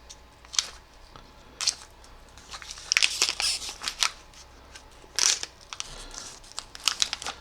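Crinkly plastic packaging is pulled and torn in irregular, crackling bursts, some sharp and loud, with quieter rustling between.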